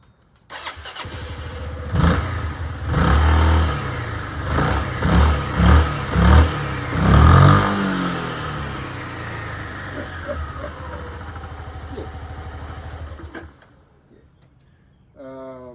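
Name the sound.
scooter engine revving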